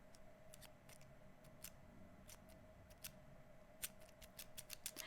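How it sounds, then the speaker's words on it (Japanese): A ballpoint pen with a muted click mechanism is clicked near a microphone, giving a series of quiet, crisp, irregular clicks that bunch together toward the end over a near-silent background. "このカチカチの音が小さいんです"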